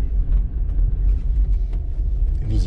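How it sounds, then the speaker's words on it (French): Low rumble of a car engine at close range as the vehicle drives slowly toward a parking lot near a pond, steady with slight fluctuations. "Maintenant, je vais ranger la voiture au parking"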